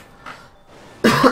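A person with a week-long bad cough coughs once loudly and close, after a few quieter throaty breaths.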